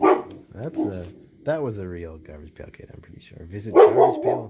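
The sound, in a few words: dog barking in the background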